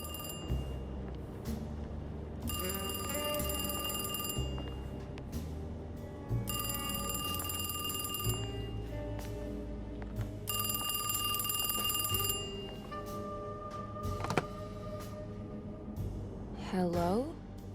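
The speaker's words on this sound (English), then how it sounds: "you'll hear a phone ringing" Telephone ringing in the survival horror video game Alone in the Dark, a bright electronic bell ringing in repeated bursts of about two seconds over low droning game music, followed by scattered game sounds.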